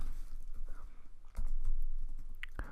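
Keys clatter on a computer keyboard while an IP address is entered during a network security demonstration, with quick irregular bursts of clicks close up, a louder cluster near the end.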